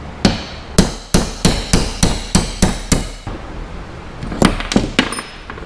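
Hammer blows punch roll pins out of a coupling on a Corvette C5 Z06: about eight sharp, evenly spaced metallic strikes up close, a short pause, then a few quicker, lighter taps.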